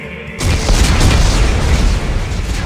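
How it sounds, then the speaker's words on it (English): Explosives detonate in the sci-fi survival horror game Dead Space 3: a sudden loud blast hits after a short quiet moment, then rolls into a heavy, sustained rumbling roar that holds to the end. "Computer, arm explosives."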